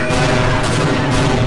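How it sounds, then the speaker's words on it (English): Explosion in the video game Half-Life, a loud dense blast of broadband noise with rumbling low end that fills the whole moment without letting up. "Oh my god, explosion, explosion, boom!"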